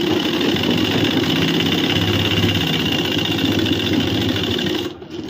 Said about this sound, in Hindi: यहाँ से इस तरीके से लगाएंगे सिलाई, अच्छी तरीके से कट मिला लें।